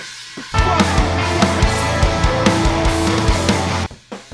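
A full drum kit plays a steady groove with crashing cymbals and punchy kick and snare hits, heard from above with a bright, roomy wash.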